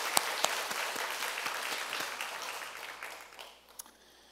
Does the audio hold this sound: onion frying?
no